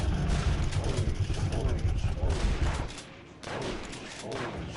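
Gunfire in the video game Detective Sam 3, a dense rattling burst of rapid shots up close that drops off briefly, then resumes more quietly with scattered cracks.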